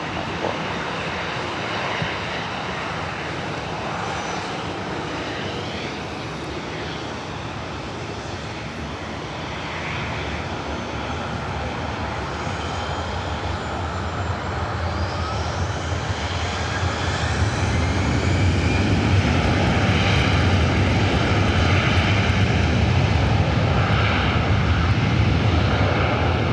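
A Delta airliner takes off from runway 24 right at Los Angeles International Airport. Its engine roar holds steady and broad, then swells louder and fuller toward the end as it accelerates, with no talk over it.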